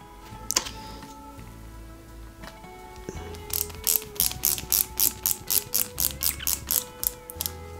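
A screw is driven into an Ecto-1 Ghostbusters model kit with a hand screwdriver, making a close, rapid series of rhythmic ratcheting clicks after a few quieter handling knocks, with no talk.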